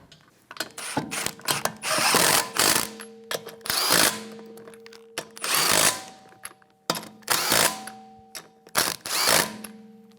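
Power tool snugging lug nuts on a 2013-2017 Honda Accord wheel with a 19mm socket, a series of loud ratcheting bursts with short pauses between them, close by and with no talking.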